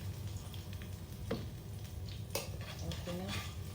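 Fish fillet frying in a pan: a steady, close sizzle runs throughout, with occasional clinks and someone speaking over it.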